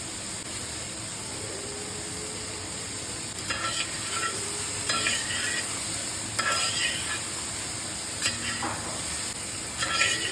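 Bitter gourd slices stir-frying in a pan with salt for a Kerala mezhukkupuratti, a constant hissing sizzle with a few brief scraping stirs rising over it, no talking.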